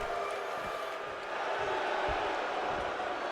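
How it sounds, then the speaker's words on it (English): Wrestling match crowd cheers and applauds in steady broad noise after a wrestler survives a pin, a sustained roar throughout. "You hear the crowd showing their appreciation for Aiden's"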